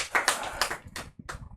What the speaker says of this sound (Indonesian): Udah tepuk tangan dulu dong buat Uda Yamin.